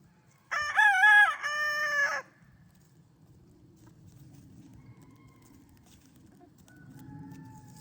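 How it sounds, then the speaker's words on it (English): A neighbours' cockerel lets out one loud, clear crow lasting a couple of seconds, followed by a quiet outdoor hush with faint distant noise. "the neighbours' cockerels. And they all crow at each other."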